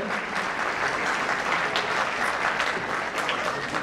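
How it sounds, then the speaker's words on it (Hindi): Auditorium audience at an annual college festival giving loud, sustained applause to welcome a guest onto the stage, a thick even wash of clapping from many people throughout. "प्लीज स्टेज पे जोरदार तालियों से स्वागत करें हमारे प्रिय गुरु धर्मांशु रावल सर"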